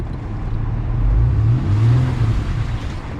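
An off-road vehicle spins its wheels in a soft bog on a muddy trail, a loud, close low engine roar that swells twice as the revs rise and fall, with no voices.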